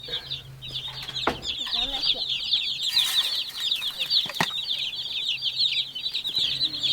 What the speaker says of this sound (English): You want the chickens to peck at the ground and dig in the soil